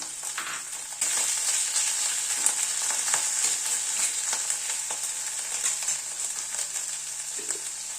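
Chopped tomato added to spice paste frying in a pan gives a bright, hissing sizzle that jumps louder after the first second and then holds steady, with light scraping and crackle scattered through it, close and unaccompanied by voices.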